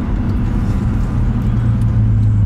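A 1956 Chevrolet Bel Air two-door post with its engine rumbling steadily, a loud, close, continuous low drone that swells slightly toward the end, heard alone without talk.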